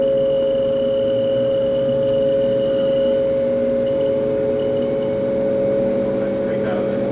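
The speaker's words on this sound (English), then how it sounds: "Spindle is quiet. All you hear is the fan." A Haas vertical machining center runs with its spindle turning slowly and quietly while the cooling fan drones: a loud, steady, even hum with a constant pitch that holds unchanged throughout.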